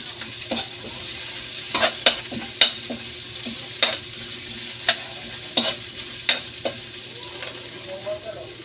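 Onions sauté in a pan for a mung bean stew, a steady low sizzle broken by sharp metallic spatula scrapes and clinks at an irregular rhythm, close and clear, with no talking.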